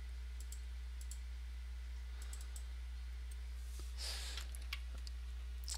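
Computer mouse clicks in quiet indoor surroundings, several light, sharp clicks spaced irregularly over a steady low hum, close and faint, with no talking.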